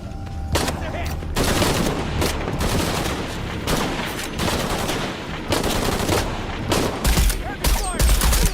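Heavy gunfire from Shadow of the Tomb Raider pours out in long dense volleys of automatic shots, loud and close, with brief gaps between bursts and a voice calling out over the firing.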